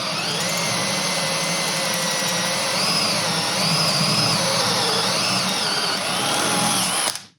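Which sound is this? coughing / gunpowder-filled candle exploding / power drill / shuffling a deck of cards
power drill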